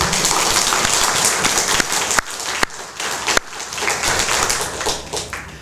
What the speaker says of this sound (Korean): 여러분 우리 이렇게 좋은 교회 다니고 좋은 교회 주신 하나님께 감사 박수 한번 쳐드릴까요?